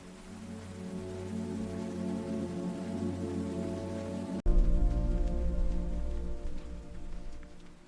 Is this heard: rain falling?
yes